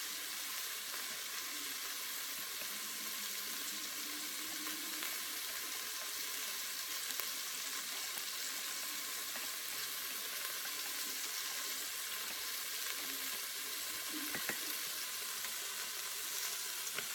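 Salisbury steak patties browning in an Instant Pot give off a steady, moderately loud sizzle that runs unbroken throughout, with a few faint clinks and small stirring sounds underneath.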